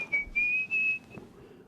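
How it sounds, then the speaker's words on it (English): A person whistles a few short, high sustained notes close by, then stops, leaving quiet room tone. "I tend to whistle while I work, so don't mind."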